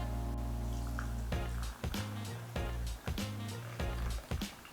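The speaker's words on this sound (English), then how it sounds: "Then I'm going to pour my beetroot latte in here." Beetroot latte pours and splashes into a cup in several short bursts, close and fairly loud, with a steady hum underneath.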